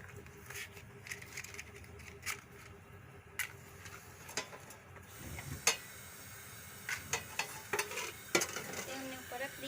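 A spoon scraping and stirring a spinach (palak) dish in a pan, quiet irregular clinks and scrapes over a faint steady sizzle, with occasional sharper taps against the pan.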